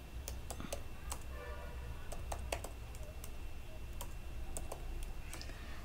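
Computer keyboard typing while a PHP and MySQL e-commerce payment page is coded, with scattered quick keystroke clicks over several seconds at close range against a steady low hum.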